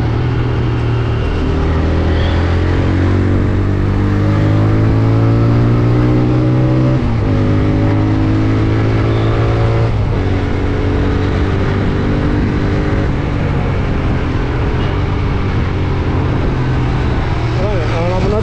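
A TVS Raider 125 motorcycle engine drones steadily on an on-road test ride, its pitch rising and shifting as it accelerates through gears, with wind rush throughout and a rider talking over it.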